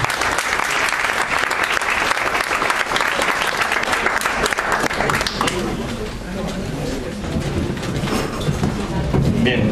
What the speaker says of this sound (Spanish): Así que un aplauso para nuestro ponente.